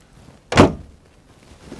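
A LiuGong excavator cab door swings open with a single solid thunk up close, followed by quiet handling noise.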